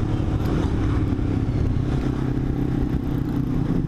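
A Honda CBR250RR motorcycle engine runs close and loud in a steady, rumbling idle with a mechanical clatter, heard alone without speech.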